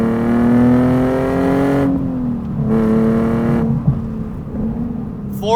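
A Nissan 370Z NISMO engine revs hard and holds near 7,000 rpm with a loud, steady, rising whine, then eases back and dips before climbing again at close range.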